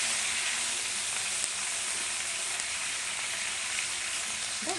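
Meat for adobo frying in a pan: a steady, even sizzle, close and constant throughout, with no talk.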